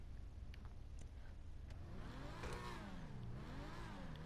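An Annis ZR380 car engine with an upgraded exhaust in GTA V revs up, rising to a loud, throaty roar with a rumbling exhaust, then sweeps back down and climbs again.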